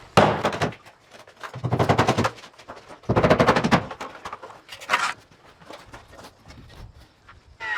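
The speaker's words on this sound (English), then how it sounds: "You can see Chad nailing on the starter strip down there." Nail gun firing into a starter strip on a large Cape-style garage, heard as three dense bursts of rapid repeated shots with shorter single pops between them, loud and close, and no talk.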